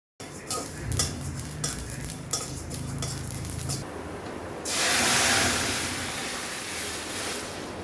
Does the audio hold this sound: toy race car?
no